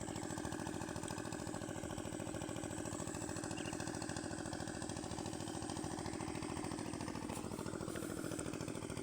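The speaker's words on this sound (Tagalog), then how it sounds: "maghapon magdamag na umaandar yung makina. So China yan, pero matibay at saka luma na rin yan" An old Chinese-made engine drives an irrigation water pump on a farm, running steadily with a constant, throbbing mid-pitched drone at close range and no pauses.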